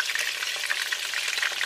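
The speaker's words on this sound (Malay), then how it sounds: "Kalau nak sedap, ayam dia ni kena goreng agak garing sikit." Chicken pieces fry in hot oil until crispy for fried chicken with onion and torch ginger flower, giving a steady close crackling sizzle with dense popping throughout.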